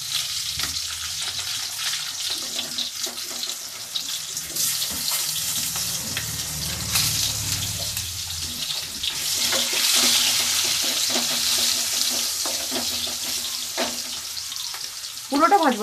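Potato pieces for a rui fish curry fry in hot oil with a steady broadband sizzle, punctuated by stirring clatter and a brief bubbling surge near the middle; no one speaks.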